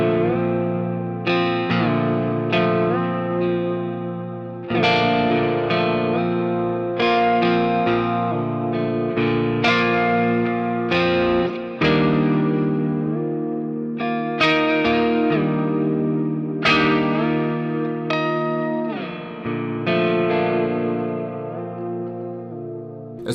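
Electric guitar run through a pitch shifter set to an interval, swept upward with an expression pedal to mimic pedal steel, heard as loud, sustained chords that glide and bend between notes with a steady rhythm and no talking.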